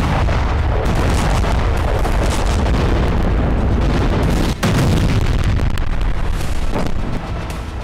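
Heavy artillery fire and explosions during Ukrainian army attacks on Kursk form a loud, continuous barrage of deep booms and rumbling blasts with a sharp burst near the middle.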